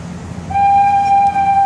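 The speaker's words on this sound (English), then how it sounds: "And there's the train." A train horn sounds a sustained tone over low rumbling at Disney's Animal Kingdom, starting partway through and holding steady until the end.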